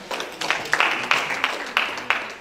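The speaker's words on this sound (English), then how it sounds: "A round of applause." An audience at a university project-writing workshop gives a round of applause, a moderate spread of claps with sharper bursts, fairly close and steady for a couple of seconds.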